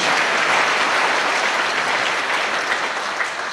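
A congregation claps loudly during a church service for the deaf, dense continuous applause that fades slightly toward the end.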